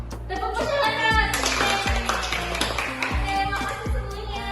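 A classroom of children claps together in a call-and-response rhythm game, sharp grouped hand claps ringing out in bursts between a teacher's spoken cues.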